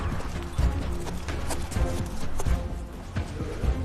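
Karabair horse hooves clip-clopping in a steady, repeated rhythm, fairly close and clear, with occasional faint voices in the background.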